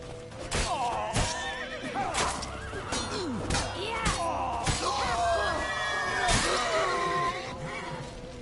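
A horse whinnies in The Witcher 3: Wild Hunt, with several loud neighs rising over clattering hooves, scattered thumps and urgent shouting voices in a tense street chase.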